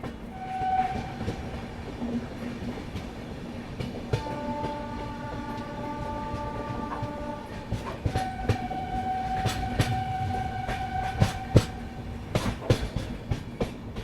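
Garib Rath Express on the Lucknow–Raipur run rolls steadily along the rails near Manak Nagar cabin where it joins the main line, a continuous close rumble laced with sustained tonal whines and occasional sharp clacks, with no talking.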